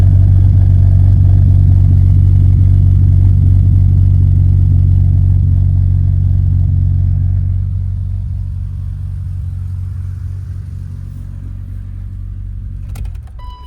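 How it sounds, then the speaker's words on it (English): A BMW E34 M5 Touring with an S38B38 engine and Billy Boat aftermarket exhaust gives a deep, steady rumble, idling loudly and continuously, then drops a little in level partway through before a brief clatter near the end; no voices. "Let you listen to this Billy Boat exhaust real quick"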